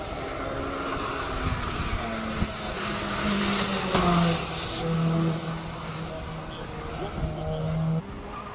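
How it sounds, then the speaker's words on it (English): A Mitsubishi Evo 9 with a 2-litre 16-valve all-wheel-drive engine climbs a hill course at a Cape Town speed classic, a steady loud engine drone with gear changes and rising revs, crowd and commentary noise behind it. "Shane Naidu in the Mitsubishi Evo 9 now taking on the hill"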